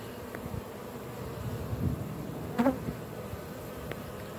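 A honeybee swarm clustered on the outside of a hive gives a steady low buzzing hum, with a few louder passing bees standing out briefly over the drone.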